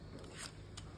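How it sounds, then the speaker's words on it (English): A sharp peeler scrapes the skin off an apple, giving a short, soft, crisp rasp close to the ear with no talking. "So just peel your apple like that."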